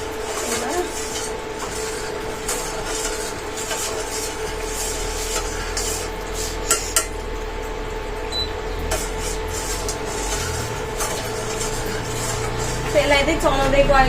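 Milk for homemade mango kulfi is stirred in a pot on the stove, with faint scraping and light metallic clinks. A person talks throughout over a steady background hum.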